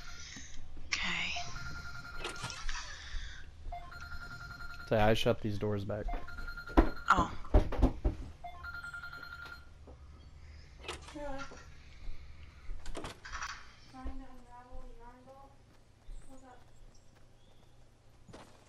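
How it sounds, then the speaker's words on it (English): A wife's phone rings repeatedly at a distance in a quiet room, with footsteps and a few spoken words mixed in, while faint electronic game sounds play underneath. "Just my wife's phone going off at the moment"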